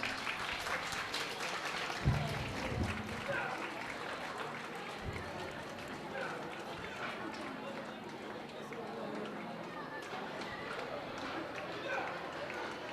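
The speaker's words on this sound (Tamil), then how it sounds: "Please give them a big round of applause." Audience applause for students at a school annual day, a steady wash of clapping from a crowd that keeps going throughout, with talk and movement mixed in.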